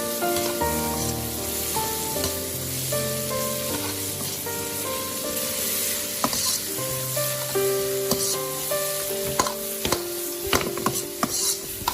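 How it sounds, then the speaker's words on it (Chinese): Raw carrots stir-fry in a hot wok with a steady sizzle, joined by intermittent clacks and scrapes of a spatula tossing them, under soft background music. "胡萝卜想要好吃一点，最好的方法就是这样生炒"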